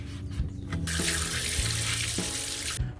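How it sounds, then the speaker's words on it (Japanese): Tap water gushes steadily into a sink while dishes are washed at a campsite, a close, loud rushing stream that starts abruptly and runs continuously. "よし、じゃあね洗いましょう。 水が使えるからありがたいですね。"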